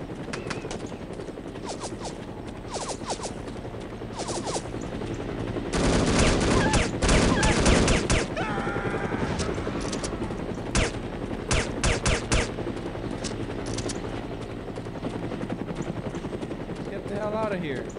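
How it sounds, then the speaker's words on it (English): Helicopter in the video game No One Lives Forever, a droning rotor throb running underneath bursts of machine-gun fire and rattling gunshots, with a dense volley midway and scattered shots later; a player talks over it in places. "What the hell is up with the helicopter?"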